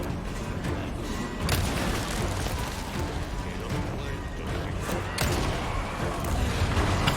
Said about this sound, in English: The explosion propelled him.